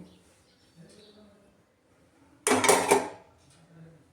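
After a quiet moment, metal utensils clatter together in one short, loud burst, then fall silent.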